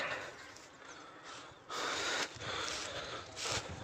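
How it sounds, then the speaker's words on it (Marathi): A large pig snorts in a few short, breathy bursts, close by and fairly quiet, separated by brief gaps of soft background hiss. "मोठं डुक्कर बघा"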